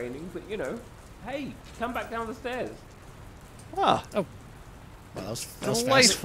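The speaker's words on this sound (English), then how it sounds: "I don't think it's supposed to still be raining" Steady rain patters throughout a heist video game scene, a constant soft hiss beneath a man's intermittent spoken remarks.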